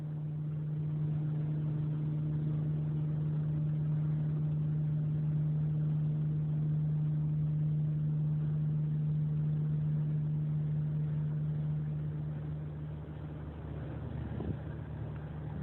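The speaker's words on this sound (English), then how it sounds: "big old truck." A big old truck is passed on the highway at around 79 mph, heard from inside the car as a steady, loud engine and road drone with a low hum that eases slightly near the end.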